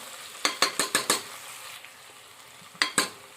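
A spoon stirs frying food in a pan with a quick burst of five scraping strokes, a pause, then two more strokes, all over a faint sizzle close by.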